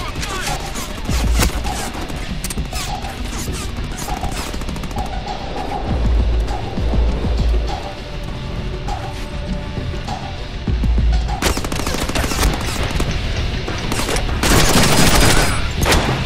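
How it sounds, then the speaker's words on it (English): Loud, repeated shotgun blasts in the Deadpool video game, several bursts of overlapping shots spread across the stretch with gaps between them and a heavy cluster near the end, with occasional speech. "Let's try the shotgun."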